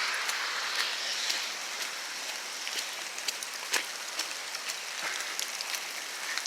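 Rain falls outdoors near a house, a fine steady patter with scattered sharper drops landing close by, soft and even throughout with no voices.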